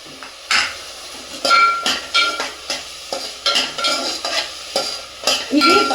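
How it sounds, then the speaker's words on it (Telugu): Onions and green chillies frying in a pan for chicken pulao, loud nearby sizzling broken by repeated metal spatula strikes and scrapes against the pan in an uneven stirring rhythm. "ఇది వేగాక చూద్దాం. ఆనియన్ ఫ్రై అయ్యాయి కదా."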